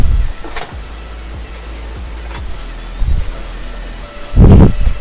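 A brake disc comes off a car in Car Mechanic Simulator 2021, heard as a few short mechanical whirs and clunks from the game, ending in a louder thudding burst, with no talking.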